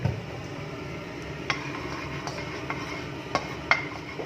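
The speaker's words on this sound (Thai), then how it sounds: "ที่มันปอแปะเพราะว่ากระทะมันเปียกเนาะ" Oil crackles and spits in a wet wok, with scattered small pops and ticks over a steady low sizzle, close by and quiet, no voices.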